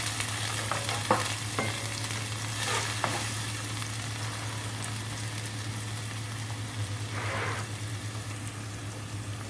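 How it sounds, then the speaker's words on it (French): Shallots browning in a pan with leftover lamb shank marinade sauce, a quiet steady sizzle and bubble with a few light stirring scrapes, close and fairly faint. "Je mets les échalotes. Voilà, comme ça, je laisse dorer."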